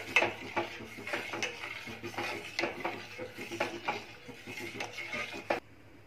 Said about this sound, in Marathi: त्याच्यामध्ये ही कस्टर्ड पावडर टाकून घ्यायची, थोडी थोडी टाकून घ्यायची आणि ढवळून घ्यायची आहे।